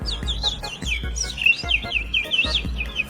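A voice imitates a bird, whistling quick, high chirping trills in repeated bursts, with soft low thumps underneath.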